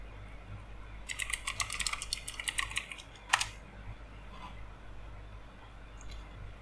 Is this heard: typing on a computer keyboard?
yes